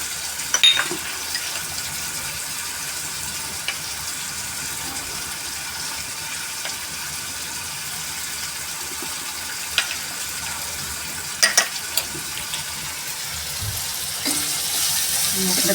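A gram flour and yogurt mixture is being stirred, making a constant soft wet hiss broken by a few sharp clinks and scrapes of the utensil. The sounds are close and clear, with no talking.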